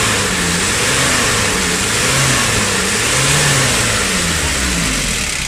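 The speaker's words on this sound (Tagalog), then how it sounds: "pag ano mo sa accelerator, sumasabay yung pwersa ng makina" An engine revs repeatedly after its injection pump is refitted, following an earlier black-smoke and air-lock fault. Its pitch swells and falls in several close, loud surges over a steady running drone, with no talk.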